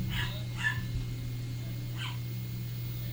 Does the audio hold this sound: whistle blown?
no